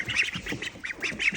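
Young ducks in a temporary pen, quacking and squawking in quick repeated bursts, close and fairly loud, with no talk.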